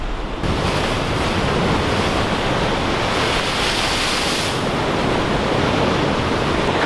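Pacific surf rolling in at Depoe Bay on the Oregon coast, a loud, steady wash of breaking waves mixed with gusts of wind buffeting the microphone, with no voices.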